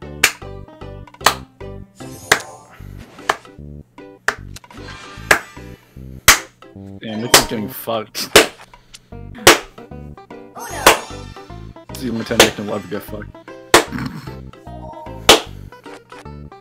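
A person clapping hands during an Uno game, sharp loud claps starting slow and spaced, then picking up into faster vigorous clapping, close by, with a voice talking briefly between them.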